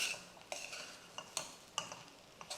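Chopped capsicum and gram flour being stirred in a pan for a Maharashtrian zunka, with a handful of sharp spoon scrapes and clinks against the metal over a faint background sizzle, close and fairly quiet.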